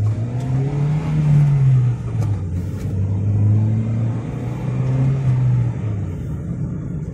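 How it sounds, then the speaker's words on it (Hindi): A Hyundai i10 engine hums steadily on a test drive after a full service, its pitch rising and falling gently as the car accelerates and eases off, close and continuous with no voices. "तो हम इसका एक टेस्ट ड्राइव लेंगे"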